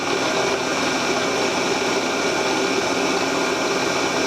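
A loud, steady machine whine with a harsh grinding texture runs without pause, like a drill boring into metal close by.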